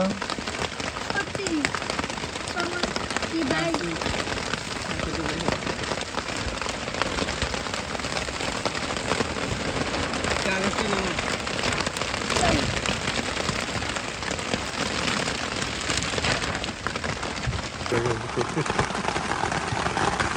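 Heavy rain pours steadily outside in a village during the rainy season, a dense, constant hiss that holds at a fairly even level throughout, with faint voices now and then underneath.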